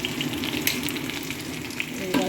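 Potato and vegetable pieces fry in a pan, giving a continuous close sizzle broken by a few sharper crackles and spatula scrapes as the mix is stirred.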